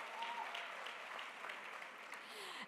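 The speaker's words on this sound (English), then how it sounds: "Let's give him a big round of applause." Audience applause for a panelist at a public lecture event at the University of KwaZulu-Natal, soft and distant-sounding, an even wash of clapping from a hall crowd with no speech over it.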